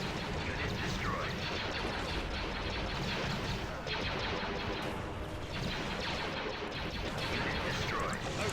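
Blaster and cannon fire crackles steadily through a Star Wars space battle in the strategy game Thrawn's Revenge, a dense, continuous barrage of shots and impacts with faint whooshing sweeps layered over it.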